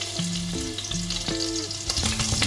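Onion and ginger sauté in a hot pan for bulalo, with a steady close sizzle and crackle. Brief tonal clinks sound over it.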